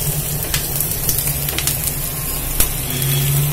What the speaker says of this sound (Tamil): இங்க நம்ம தாளிச்சுக்கிட்டு இருக்கோம்